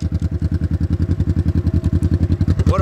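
A 1970 Honda CL450 motorcycle with a slightly modified factory exhaust, its baffles altered, idles close by in a loud, steady, rapid pulsing thump that holds an even rhythm throughout, with no voices over it.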